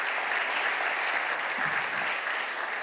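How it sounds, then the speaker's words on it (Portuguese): A church congregation applauding during the closing session of a women's conference, dense, sustained clapping that fills the hall evenly throughout. "que a igreja aplaudisse enquanto eles vêm"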